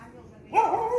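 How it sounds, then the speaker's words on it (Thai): A single short dog bark cuts in after a moment of quiet, fairly close and clear. "นำโชคเห่า"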